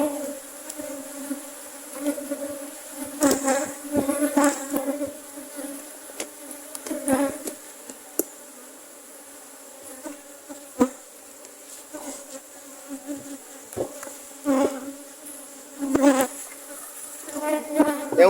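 Bees buzzing around a captured swarm hive during winter management of Brazilian hives, a steady close hum with individual bees flaring louder as they pass near, accompanied by occasional light handling knocks.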